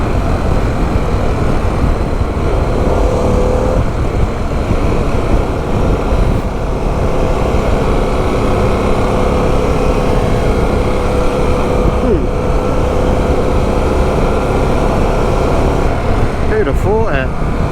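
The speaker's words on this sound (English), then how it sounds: "That is a stonking engine" A Harley-Davidson adventure motorcycle engine runs in sport mode, a loud, steady riding drone dominated by wind rush with engine rumble beneath and brief revving near the end; a rider talks throughout.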